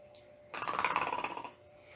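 A voice imitates a man asleep in a chair snoring, a rhythmic rasping burst of about a second, fairly close and alone against quiet room tone.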